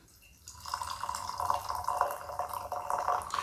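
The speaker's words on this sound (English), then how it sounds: "I found that this is definitely my best way of pouring the gaiwan." Oolong tea, a 1980s Emei barrel ball, poured from a gaiwan: after a quiet start, a steady close trickle of liquid streams continuously with fine splashy texture for about three seconds.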